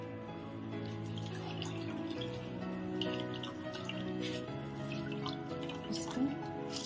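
Water drips and trickles from chhena, the fresh cheese being drained for rasgulla, a faint, continuous liquid patter with small splashes close by under a low background hum.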